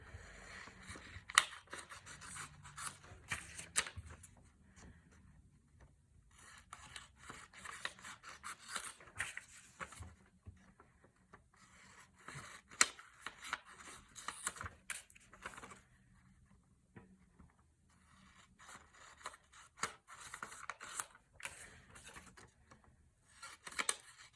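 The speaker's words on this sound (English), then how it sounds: "You need to cut out each of these little rectangles." Scissors snip and scrape through paper, cutting out small rectangles for a fractions lesson craft, with irregular bursts of cutting separated by short pauses, close and fairly quiet with no talking.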